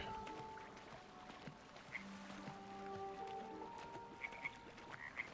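Frogs croak repeatedly in the video game Baldur's Gate 3, with several short, bright calls standing out over a steady ambient backdrop of low tones and soft water-like sounds.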